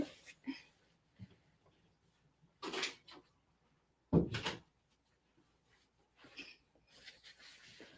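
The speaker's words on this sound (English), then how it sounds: "because my dog keeps coming in and out, I'm going to close my door" An indoor door is pushed shut in a home with a curious golden retriever moving about, giving a few scattered knocks and thuds, one sharp close, amid faint rustling and breathing.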